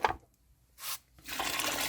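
Water pours in short bursts from a container into a vessel while sugar syrup for feeding bees is mixed, a soft splash followed by a longer, steadier pour, close by and without talking.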